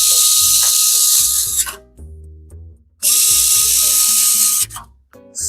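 Powered screwdriver driving screws on its own during a PC build, two loud, high whirring runs of about two seconds each, broken by a short gap and trailing mechanical clicks, very close.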